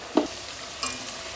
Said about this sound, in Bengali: এবার আমি তেলে ভালো করে ভেজে নেব